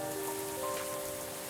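Rain falls in the video game Coffee Talk as a steady, even patter under sustained soft music tones, with no talking.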